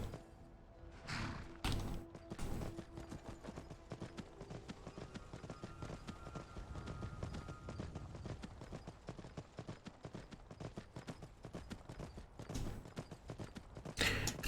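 Horse hooves clip-clopping steadily in Skyrim with a horse sound mod, a fairly quiet, regular trotting rhythm that continues throughout with a few louder impacts, while someone talks now and then.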